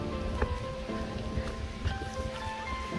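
Steady cold rain patters down close by on a trek to Kamrunag Temple in Mandi, Himachal Pradesh, a continuous wash of drops with occasional louder taps, no voices.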